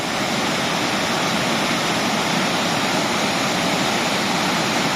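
A powerful waterfall on Doi Inthanon, Thailand, roars continuously, a dense, loud, unbroken rush of water with no voices.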